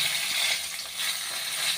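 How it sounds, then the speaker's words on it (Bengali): Bori, small lentil dumplings, fry in hot oil with a steady, bright sizzle that stays loud and close throughout, with faint stirring scrapes underneath. "এইটা ভেজে নেব"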